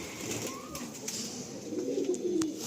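Blue pigeons at a market stall where birds are sold, one soft low coo drifting up close and gently, followed by faint rustling and wing clicks and a sharper tap at the end.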